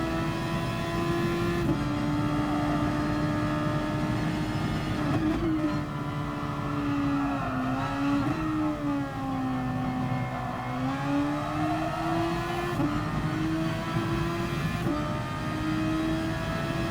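Race car engines in a racing video game at Suzuka make a continuous, close, high-pitched whine. The pitch rises and falls with each gear shift and corner, and the sound stays steady and loud for the whole stretch.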